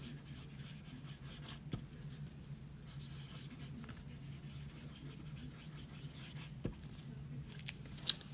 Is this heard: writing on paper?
yes